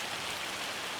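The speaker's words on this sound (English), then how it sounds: "So as soon as this hailstorm has died down" A hailstorm in the farming video game Farming Simulator 25 makes a steady, dense hiss like heavy rain drumming on surfaces, even and continuous with no talk.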